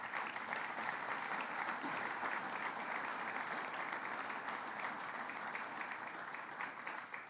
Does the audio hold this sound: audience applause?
yes